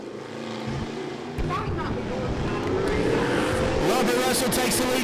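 Race cars coming off turn four to finish the opening lap, a continuous loud engine roar with rising, sweeping whine building as the pack passes near.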